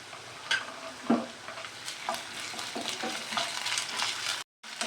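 Onions, curry leaves and ginger-garlic paste fry in a pan for a potato dish, with a crackling sizzle broken by scraping stir strokes, close and fairly quiet, cut off by a brief silence near the end.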